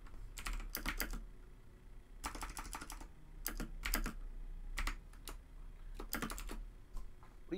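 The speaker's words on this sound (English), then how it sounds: "What are you typing?" Someone types on a computer keyboard during a Call of Duty: Modern Warfare stream, with bursts of quick clicking keystrokes separated by short pauses, close and fairly quiet over a low steady hum.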